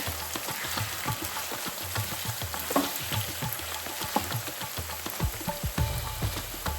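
Salted potato pieces frying in a pan for a moringa drumstick curry, a steady crackling sizzle with soft scraping stir strokes, close and moderately quiet throughout.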